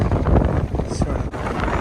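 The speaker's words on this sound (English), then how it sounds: "The wind is blowing, but it's from behind me at least." Wind gusts buffeting the microphone on an uphill hiking trail near a creek, a loud steady rush with no talking.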